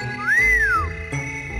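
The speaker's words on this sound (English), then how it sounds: "If you're ever in trouble, just whistle like this." A single clear whistled note from a person glides up and back down in a smooth arc, loud and close over a soft musical backdrop.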